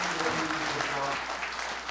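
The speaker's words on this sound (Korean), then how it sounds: "여러분 힘찬 박수를 쳐주시면 나오겠습니다." An audience claps at a political party members' rally in Jeonju, scattered applause heard somewhat faintly under someone speaking over a microphone.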